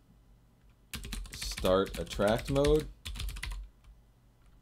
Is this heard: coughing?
no